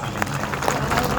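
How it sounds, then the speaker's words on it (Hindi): Applause from an audience at a kavi sammelan, a dense, steady wash of clapping and crowd noise filling the whole short moment at close range. "दोनों हाथ गगन में उठा करके जोरदार तालियां बजा करके"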